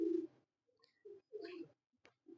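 Rare pigeons kept by Ustad Malik Nayar give a few soft, low coos in short separate bursts, close by and fairly quiet, with brief gaps of near silence between calls.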